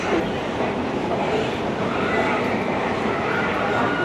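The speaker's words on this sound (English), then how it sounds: "This train as well, you barely get a seat." A busy train late at night gives a steady, dense rumble and rattle throughout, with muffled chatter from many passengers mixed into the constant noise.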